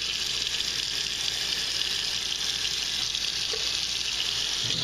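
Steady tap water pours into a sink to rinse dried beans for ham and bean soup, a continuous close hiss and splash with no pauses.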